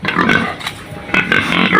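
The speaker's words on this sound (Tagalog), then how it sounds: "ngayon update po tayo sa ating mga alagang baboy" Farm pigs raised for sale grunt and oink loudly up close. The bursts are rough and come in two clusters, with no one talking.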